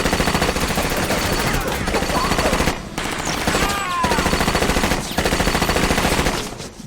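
Sustained automatic gunfire rattles nonstop in the Scarface shootout, dense rapid bursts with only brief gaps between them.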